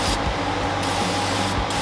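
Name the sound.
spraying engine degreaser on a Ford F100 engine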